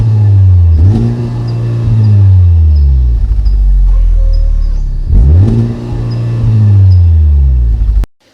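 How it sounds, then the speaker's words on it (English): A 2020 Honda Civic Type R, front-wheel drive with a three-tip exhaust, revs loudly and close up in two sweeping rises and falls. Its deep exhaust note drops away abruptly at the end. "This design gives you the resonance that you want for a really great exhaust note if you're driving the vehicle hard"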